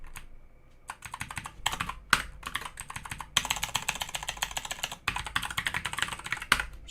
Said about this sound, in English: So we're just going to type in documentation.